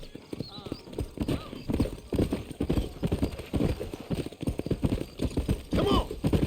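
Horses galloping in the Western video game Red Dead Redemption, a steady rapid clip-clop of hooves throughout with a brief whinny, under talk.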